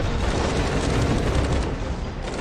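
A loud, rumbling explosion in the video game Frontline Blockman Go fills the whole stretch, dense and roaring with no pause.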